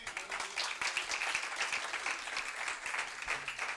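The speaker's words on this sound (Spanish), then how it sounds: "Denle un aplauso al Señor." Congregation at a church service applauding, a full, even wash of many hands clapping continuously throughout, fairly close and steady without pauses.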